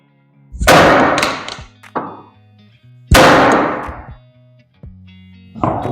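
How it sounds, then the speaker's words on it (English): A sledgehammer striking the tie rod joint of a Hyundai Veloster, loud metallic clangs with ringing decay, including two heavy blows and several lighter hits in an uneven rhythm, close by. "You take a sledgehammer and you just hit right there, this joint should free up."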